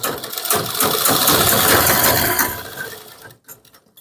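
A sewing machine stitches a kurti neckline, running in one loud, close, continuous whir of rapid stitching for a few seconds before it slows and stops, followed by a few light clicks.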